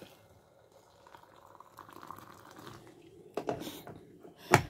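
Water pours and splashes into crushed henna powder in a container, a soft steady trickle swelling into a couple of louder splashes near the end.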